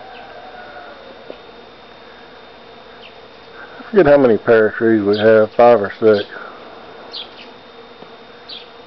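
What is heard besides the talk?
bees buzzing around a blooming pear tree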